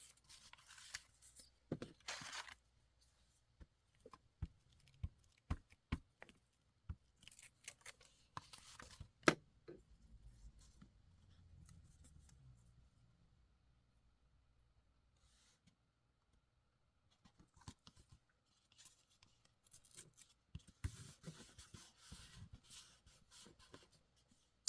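Scissors cutting a fragile sheet of music paper for a junk journal, heard as quiet, sparse clicks and snips in irregular clusters separated by near-silence.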